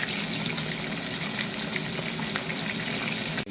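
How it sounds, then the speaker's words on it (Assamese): Fish sizzles and crackles steadily in hot oil, a dense, even frying hiss close by with no voices. "মই এতিয়া মাছটো ফ্ৰাই কৰি আছোঁ।"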